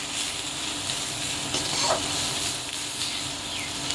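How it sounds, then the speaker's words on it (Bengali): Dried fish paste being stirred in hot oil, a steady close sizzle and hiss with occasional spatters, continuous and alone with no voices. "তো তেলের উপরে ভালো করে নেড়ে নিলাম বেটে।"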